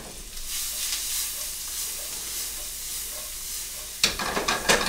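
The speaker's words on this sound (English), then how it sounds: "Now our onions are starting to get a little bit dark, so I'm going to put tomatoes in." Tomatoes with their seeds removed land in a pan of darkened onions, giving a steady close sizzle with stirring; the frying sharpens into louder, crackling bursts near the end.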